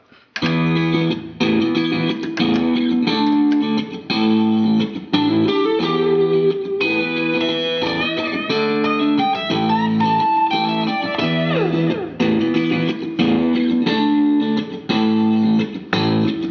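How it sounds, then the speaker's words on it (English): Electric guitar plays a rhythmic riff through distortion and delay from a DigiTech RP500 effects unit, with echoing delay trails smearing notes together, loud and continuous throughout. "I'm just going to turn on a delay and also the distortion"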